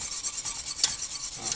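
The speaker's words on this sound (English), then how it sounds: "And we just whisk that in." Cream is whisked in a pan for Seafood Newburg, a quick rhythmic scraping and swishing of the whisk with faint sizzling, close and alone.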